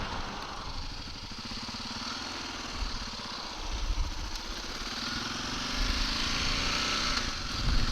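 A repaired motorcycle's engine running during a shakedown test ride, a continuous mid-pitched drone with a low throb that swells slightly in places, fairly close and steady.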